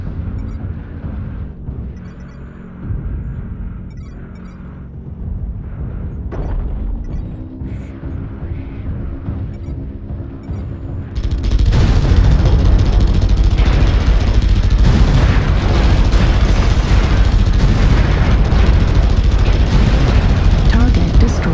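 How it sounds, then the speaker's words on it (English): Artillery strike explosions in a video game, a loud sustained barrage of booming blasts that jumps sharply in intensity partway through, following a quieter stretch with a synthetic announcer-style voice. "New target acquired. Artillery strike activated."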